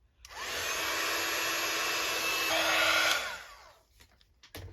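An electric heat tool blows steadily on mixed media craft tags, a loud continuous whoosh running for about three seconds before cutting off, followed by faint handling sounds.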